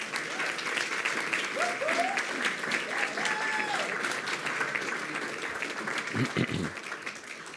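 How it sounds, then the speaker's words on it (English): A school board meeting audience applauds students from the Weslaco High School choir and orchestra with steady, moderately distant clapping throughout, and a few voices murmur underneath. "How about a round of applause for our next group of students?"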